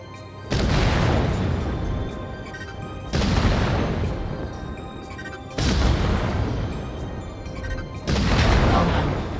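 Heavy weapon fire from a combat mech blasting a hopper target in the VR game Vox Machinae: four loud, booming salvos a couple of seconds apart, each a sustained roaring burst of explosive impacts.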